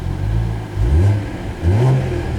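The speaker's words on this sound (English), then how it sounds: "you can also hear the exhaust open up a little bit." A 2022 Cadillac CT4-V Blackwing with a six-speed manual revs up close and loud, its exhaust opening into two or three deep rising blips with brief dips between them.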